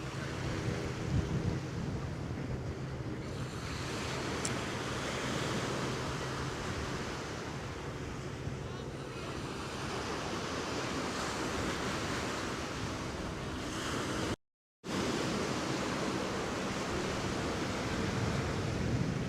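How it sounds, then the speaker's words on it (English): Ocean waves break on a sandbar far offshore at Coney Island, making a steady, broad surf roar that continues with no voices. "Got a sandbar all the way out there where the waves are breaking a bit."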